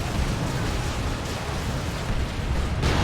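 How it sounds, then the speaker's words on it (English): Explosions in the Warhammer 40,000: Dawn of War 2 video game, heard as a loud, dense roar of rumbling blast noise that holds steady for the whole moment, with a fresh burst near the end. "Big Zinchian explosions."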